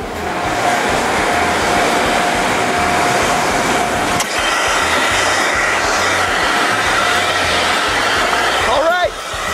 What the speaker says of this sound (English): Let's grab a vacuum cleaner.